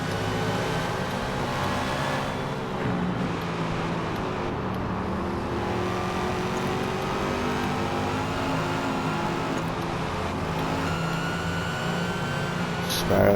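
Gen 3 Supercars, including a Ford Mustang, race at Silverstone in Forza, giving a steady engine drone that rises and falls with shifts over a long stretch, heard alone without talk.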